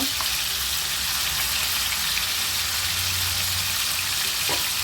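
Hilsa fish pieces, including head and tail, fry in hot oil with a steady, dense sizzling hiss. The hiss stays even and close for the whole stretch, with no voices.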